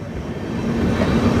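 A train runs along a freshly repaired stretch of railway track near the site of a recent accident, a steady low rumble nearby with a faint tonal hum, no voices.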